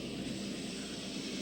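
Coast Guard International Ice Patrol airplane flying over the sea, its engine drone steady and continuous, heard from inside or close by with a constant low hum and no voices.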